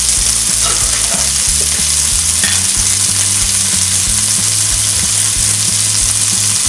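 Onion and pepper sofrito fry steadily in a pan, a loud continuous sizzle with occasional stirring clinks and nobody speaking.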